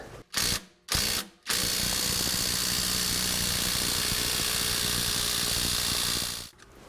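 An impact wrench on a PT Cruiser engine fires in two short bursts, then hammers in one long, loud, continuous run before cutting off abruptly.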